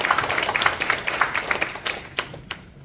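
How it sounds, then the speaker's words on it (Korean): Audience applause at an association's annual general assembly, a dense patter of many hands clapping steadily in a hall, fading toward the end. "박수 좀 보내주시길"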